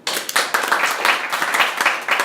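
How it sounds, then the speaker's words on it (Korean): Scattered audience clapping at a live Ubuntu boot demo in a Windows 8.1 Hyper-V talk, a moderate burst of individual claps from a small crowd with no voices. "이럴 때 박수 한번 쳐주셔야죠"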